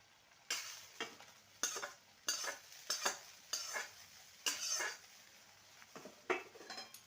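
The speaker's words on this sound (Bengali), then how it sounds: "মিশিয়ে নেব সবজির সাথে" Lentil chapor stirred into cooked bottle gourd greens in a pan, a rhythmic run of about ten close scraping strokes of the spoon against the metal over a soft sizzle, with no talking.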